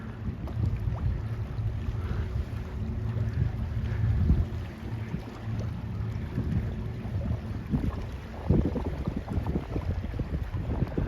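The 1,004 ft American Steamship Co freighter American Integrity moves up a river, heard as a steady low rumble mixed with gusting wind on the microphone, with no one speaking.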